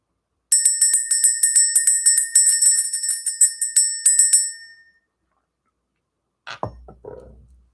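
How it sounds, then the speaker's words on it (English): A small hand bell rings rapidly and continuously for about four seconds, bright and close, then falls silent; a short rustle follows near the end. "Let's ring the bell."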